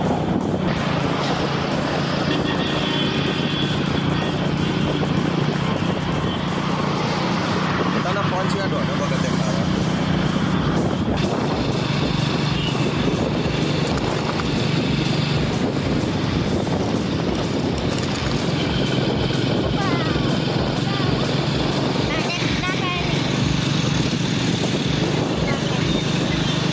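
Steady roar of a motorbike cruising along a highway, heavy wind buffeting the microphone and constant engine and road rumble throughout, with people talking over the noise.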